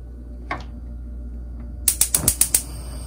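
A gas stove burner igniter in a home kitchen, ready for cooking risotto, gives one faint click and then a quick run of six sharp, close clicks.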